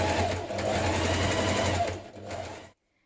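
A sewing machine stitches a pleat seam in a fitted dress, a fast, steady mechanical chatter running for about two and a half seconds before stopping abruptly.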